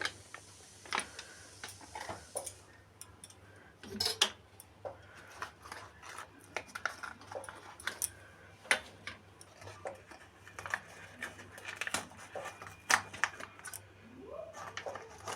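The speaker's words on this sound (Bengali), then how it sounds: "আমুল দুধটা নিচ্ছি, মিশিয়ে দিচ্ছি এতে" Amul milk stirred into homemade cake batter in a bowl: a steady run of light, close clicks and soft scraping strokes from the spoon against the bowl, with no talking.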